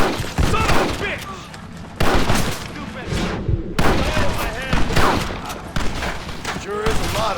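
Gunfire in the Red Dead Redemption video game, a dense continuous fusillade of shots and booms with shouting voices mixed in.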